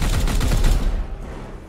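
Gunfire from Warhammer 40,000: Chaos Gate Daemonhunters, a dense, loud burst of rapid shots that fades into a decaying rumble, with no talking.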